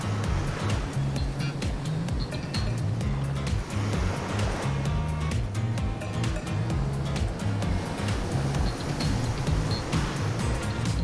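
Continuous ocean surf washes steadily onto a beach in the video game Hooked on You, a loud, even roar of breaking waves with no talking.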